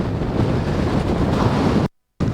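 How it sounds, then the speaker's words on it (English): Loud, continuous wind buffeting the microphone with a roaring rush, then a brief complete cutout before the blustery noise resumes. "so we'll see what the wind actually is just now"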